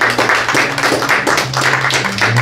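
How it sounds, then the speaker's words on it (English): A church congregation claps together as an offering of praise, the claps landing in a quick, roughly regular rhythm over a low sustained tone, loud and close throughout. "Can we give the Lord a clap offering?"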